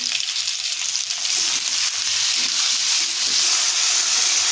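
Turmeric powder and chilli paste frying in oil in a pan for a fish and potato curry: a loud, dense, continuous hiss of sizzling that holds steady throughout, with faint stirring underneath and no speech.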